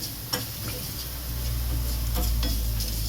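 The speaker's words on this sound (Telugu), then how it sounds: "జీలకర్ర ఫ్రై అయిపోతుంది అనమాట." Cumin seeds sizzle steadily in hot oil for a tempering in an Andhra-style potato fry, with a low hiss rising partway through and a few scraping clicks of a spoon on the pan.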